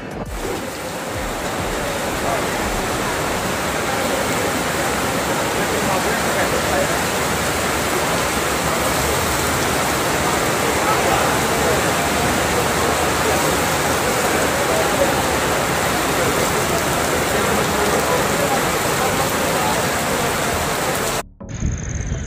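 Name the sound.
rain falling during a long-distance bicycle ride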